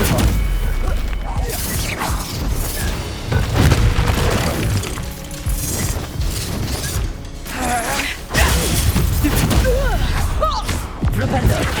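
Bombarda spell blasts in a Hogwarts Legacy duel, loud booming impacts and crashing bursts packed densely through the fight, with shouted spell voices mixed in.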